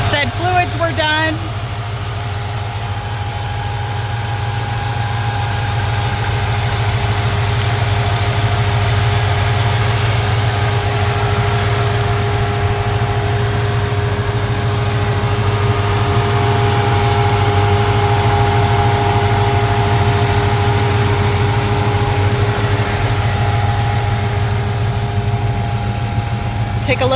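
A 1976 Ford F150 V8 fitted with Edelbrock aluminum heads and an aluminum intake idles steadily and loudly up close, holding a low, even rumble for the whole stretch with no revs and no voices.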